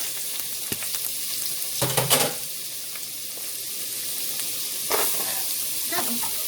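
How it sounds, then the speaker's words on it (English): Chopped onions sizzle in a pot of oil for lemon chicken and rice soup, a steady close frying hiss with a few stirring scrapes and clinks. "And I'm going to add the chopped onions."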